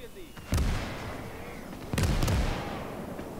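Mortar rounds fire in the World War II strategy game Gates of Hell, Soviet skirmish: two heavy, booming blasts about one and a half seconds apart, each followed by a rumbling tail over a low battlefield bed.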